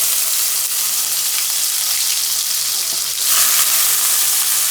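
Prawns fry in hot oil for a gongura prawn curry, giving a loud, steady hissing sizzle that swells sharply near the end, with no voices.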